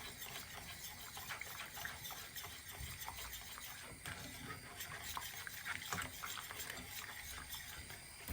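A spoon stirring a vegetarian lasagna sauce mixture with parsley and black pepper in a pan, giving a steady, soft scraping and sloshing texture throughout with faint background noise.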